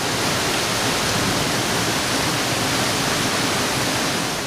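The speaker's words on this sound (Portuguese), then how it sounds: "Você percebe que a situação está muito ruim quando a água já está jorrando das janelas de um prédio de" Floodwater gushing from the windows of a three-storey building in Varazze, Italy, during a sea storm, a dense, loud, unbroken roar of rushing water with no pauses.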